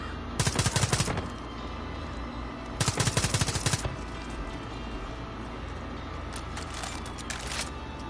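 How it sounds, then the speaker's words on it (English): Two loud bursts of rapid automatic gunfire from suppressive fire in the video game Far Cry 5, each lasting about a second, with fainter distant shots near the end over steady background noise. "More suppressive fire is coming in your way."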